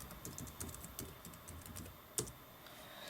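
Quiet, quick typing on a Lenovo IdeaPad Y500 laptop keyboard while entering a login password, a steady run of soft key clicks with one sharper tap near the end.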